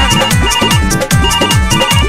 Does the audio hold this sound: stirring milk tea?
no